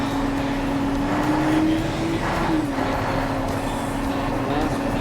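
Engine of an M109 Paladin military vehicle running steadily and loudly close by, its low tone rising slightly as gas is given, then settling back to a constant drone.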